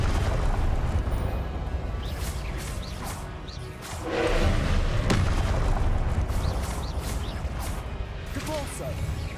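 Confringo explosive spell blasts in Hogwarts Legacy, heavy booming hits layered over a constant game-combat rumble, with one louder swelling burst midway and sharp impacts scattered throughout.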